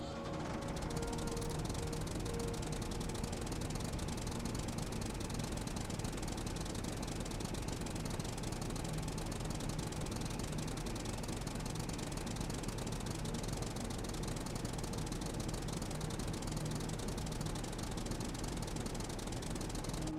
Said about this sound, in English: So let's get back in the tractor and let's carry on.